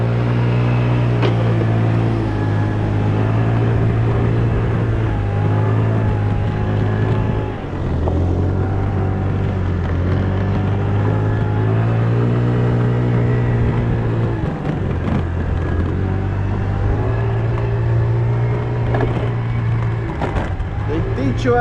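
Scooter engine droning steadily while riding on a road toward a port in Bucharest, a continuous close motor hum with shifting pitch as it accelerates and eases off, lasting throughout.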